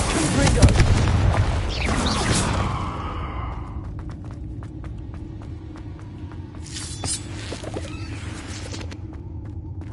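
In the Hogwarts Legacy video game, a Confringo blasting spell explodes in a loud, rumbling boom that decays over a couple of seconds, followed by quieter crackling bursts, with speech around it.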